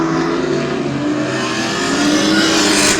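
Stock cars race at Twin State Speedway in Claremont, New Hampshire, a loud continuous engine roar with steady revving tones that build slightly as cars pass close by.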